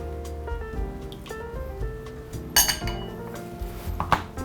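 Two eggs are beaten in a bowl, with quick close clinks and taps of utensil against the dish, in an uneven rhythm with a couple of sharper knocks.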